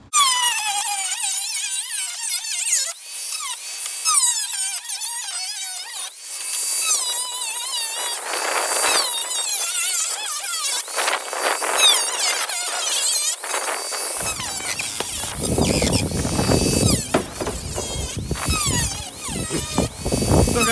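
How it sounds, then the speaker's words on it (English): An angle grinder cuts through the body metal of a Ford Freestyle during a custom body kit job, a loud, continuous high-pitched whine and squeal that shifts in pitch as the disc bites, turning rougher and harsher near the end. "So let's go ahead and get the grinder out and start cutting."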